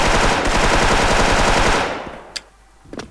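Rapid automatic gunfire from a competitive shooting video game, a loud sustained burst of machine-gun fire that cuts off, followed by a couple of sharp isolated shots.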